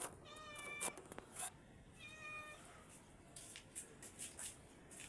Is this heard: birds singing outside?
no